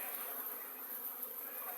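Steady buzzing hum of many flying Buckfast honeybees, continuous and fairly faint, with no voices.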